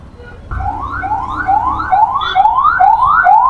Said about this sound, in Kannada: ಒಂದೊಂದ್ಸಲ ಈ ರೋಡಲ್ಲಿ ಆಂಬುಲೆನ್ಸ್ಗಳು ಹೋಗ್ಬೇಕಾರೆ